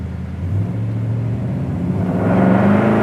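A deep 1971 Chevrolet El Camino engine rumble builds steadily as the car accelerates, its low growl rising in pitch and loudness, heard close from inside or beside the vehicle.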